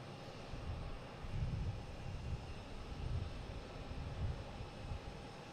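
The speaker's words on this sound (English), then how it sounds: "Cape Air from Nantucket, a Cessna 402" A Cape Air Cessna 402 arriving from Nantucket at Boston Logan, a low droning piston-engine rumble that pulses gently and stays moderately distant throughout.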